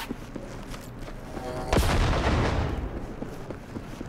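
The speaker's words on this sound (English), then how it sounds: "let me toss a grenade in there" Grenade explosion in a video game, one sudden heavy blast that cuts through quieter game sounds and then rolls away into a rumbling decay over a couple of seconds.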